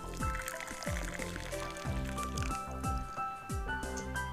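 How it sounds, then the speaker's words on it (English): A video game effect of hot water being poured plays as a series of glugging, gurgling liquid sounds, repeated in short rhythmic bursts over soft background music. "Once the water was poured, Uni leaned back into Yomogi's back."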